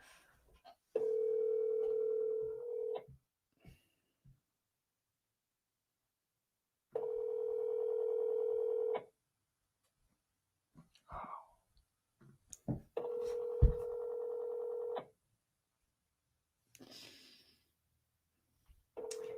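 A telephone on an outgoing cold call gives three evenly spaced ringback tones, each about two seconds long with long silent gaps between them, and faint clicks and handling noises scattered throughout.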